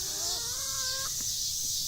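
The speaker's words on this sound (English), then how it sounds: "these are my chickens" A chicken gives a drawn-out, rising call over a steady hiss of background noise.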